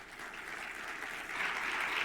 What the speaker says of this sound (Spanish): Otro fuerte aplauso para David Boronat